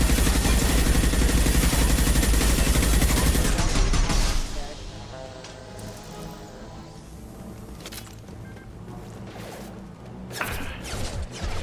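Heavy enemy gunfire in Mass Effect Legendary Edition, a loud dense fusillade of shots for about four seconds, then quieter scattered impacts and crashes under game sounds until the end.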